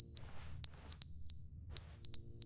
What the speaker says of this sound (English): So I know there's a loud beeping right now.